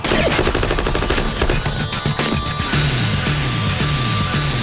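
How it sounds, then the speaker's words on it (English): Real machine guns firing full-load blanks on a film set rattle out in loud, dense bursts, overlapping volleys cracking rapidly with short gaps and a heavy, close fusillade throughout. "the actors shooting back at them could be using real machine guns, firing full load blanks"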